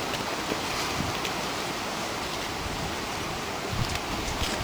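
Wind gusting across an exposed promontory on Sarah Island, Tasmania, a constant broad rushing roar with buffeting on the microphone, loud and unbroken.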